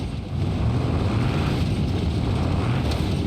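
Bruckell Nine 4x4-modded car in BeamNG.drive, its engine humming in a deep continuous rumble that swells slightly after a brief dip at the start and stays loud and near, with no voices.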